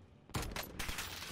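Rapid burst of automatic gunfire in a shooter video game, a dense, loud volley of shots lasting about a second after a quiet lead-in.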